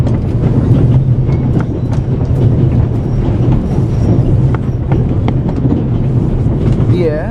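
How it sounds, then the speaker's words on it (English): Steady rumbling train noise aboard the Orient Express, a continuous loud low drone with faint rhythmic rattling and talk mixed in throughout. "The noise on this train is driving me crazy"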